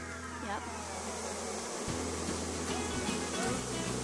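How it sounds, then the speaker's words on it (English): A swarm of bees buzzes without a break, a dense drone of many insects close by that stays steady throughout. "Remember, swarming bees are gentle."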